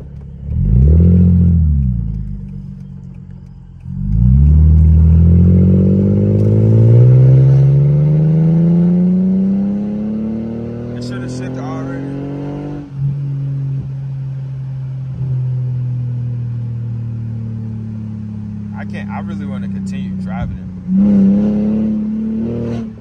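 A Mercedes W210 engine pulls hard in first gear at half throttle, its loud rising roar climbing in pitch through repeated acceleration runs, with brief drops between them and some rattling toward the end.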